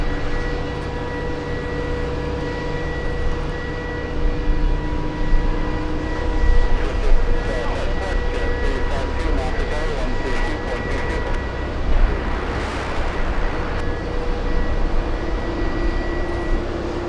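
A JetBlue airliner pushes back at Boston Logan International Airport, a steady engine whine and tonal hum with a low rumble underneath, joined by intermittent rattling and brief clatters of ground activity.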